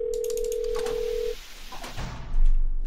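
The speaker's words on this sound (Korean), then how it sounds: "전화 소리가 굉장히 큽니다." Telephone in a Roblox horror game, a loud steady electronic tone held for over a second, then cutting off into muffled clunks and low rumbling movement.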